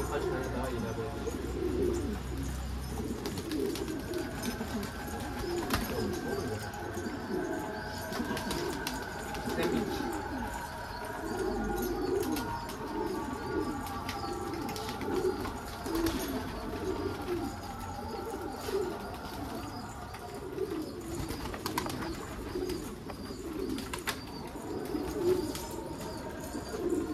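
Keşpir pigeons in a garden cooing steadily, with soft overlapping coos repeating throughout over a constant low background, close and moderately loud.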